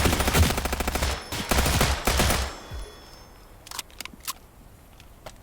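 Rapid automatic gunfire in the Transience video game, two close, loud bursts of fast shots followed by a quieter lull with a few sharp clicks and faint impacts.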